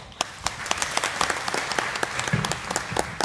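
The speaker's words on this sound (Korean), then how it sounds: "우리 정책본부장님께 다시 한번 큰 박수 부탁드립니다" An audience at a Korean forestry association lecture event claps for a speaker, giving dense, steady applause close by with many overlapping hand claps throughout.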